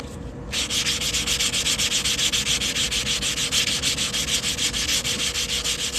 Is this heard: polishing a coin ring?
yes